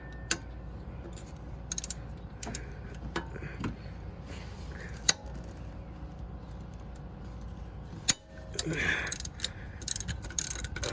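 A ratchet cracks loose a 14 mm engine bolt on a 2005 Nissan Sentra during an engine swap, giving faint, scattered clicks and ticks over a low, steady background hum.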